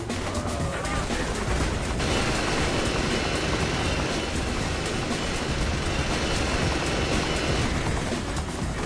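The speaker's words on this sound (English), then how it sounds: "Really? A fucking attack chopper?" An attack helicopter in the video game Saints Row the Third roars steadily and loudly throughout, a thick continuous rotor-and-engine wash with crackles of gunfire mixed in.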